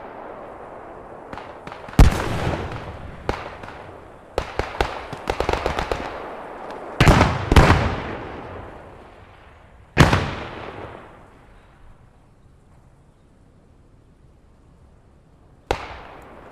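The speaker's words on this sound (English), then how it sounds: "Yo, Commander, are you bombing that?" Artillery shells exploding during a bombardment in the Squad 44 World War II shooter game, a series of loud booming blasts at irregular intervals with rumbling tails that fade between hits, no talk.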